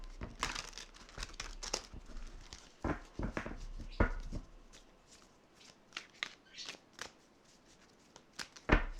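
Tarot cards being shuffled by hand, a run of crisp riffling bursts and soft slaps in irregular clusters, close and fairly quiet, with no talking.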